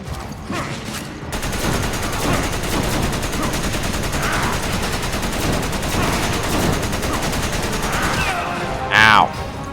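Sustained gunfire in Resident Evil 5, a continuous rattle of rapid shots lasting several seconds, with a brief louder burst near the end and some game sounds underneath.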